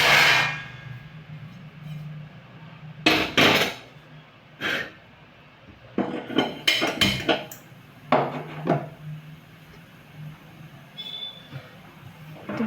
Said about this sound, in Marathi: गॅस मोठा केला आणि लोखंडी तवा तापवायला ठेवलेला आहे